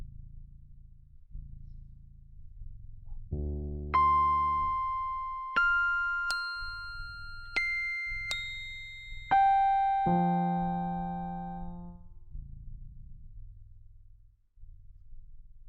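Music generated from a picture of the superhero Blue Marvel unfolds as slow, sustained electronic tones. A low drone gives way to stepped, bell-like pitches climbing higher, then falling back to a deep hum.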